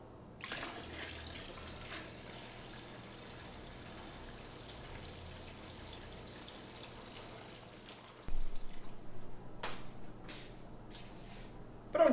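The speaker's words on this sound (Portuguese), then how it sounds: "eu vou colocar a mesma quantidade de água que eu tenho aqui" Water is poured steadily into an aquarium in a continuous broadband wash, with a sharper, louder splash near the end and a few brief drips or clinks after.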